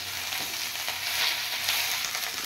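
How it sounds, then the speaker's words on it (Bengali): Bottle gourd leaves frying in hot oil while being stirred, a steady close crackling sizzle with soft scraping strokes throughout and no voices. "এবার নেড়ে দাও, হ্যাঁ ভাজো।"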